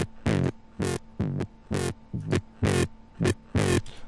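Resampled bass with a distortion effect plays in a steady pulse of loud, gritty notes, about eight evenly spaced hits with short gaps between them, alone with no talk.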